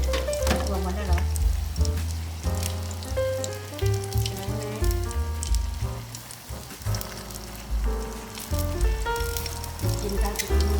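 Pork sizzles and crackles as it fries in a pan, a steady close hiss broken by the scrape and clatter of stirring, with faint voices now and then.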